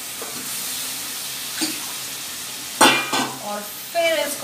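A potato vegetable dish is stirred and fried in a pan, its low sizzle broken by scraping strokes and clanks that grow louder and more frequent in the second half.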